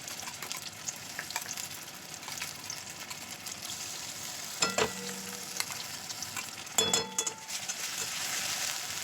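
Onions and spices frying in a pan give a steady, fairly quiet sizzle, broken near the middle and again toward the end by short scraping stirs.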